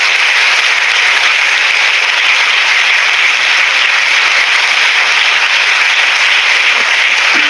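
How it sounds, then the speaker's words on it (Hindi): A Hindi-speaking church congregation claps in praise of Jesus, producing a dense, loud, unbroken wash of clapping that holds steady throughout. "ऊपर ताली बजाएंगे यीशु की महिमा के लिए,"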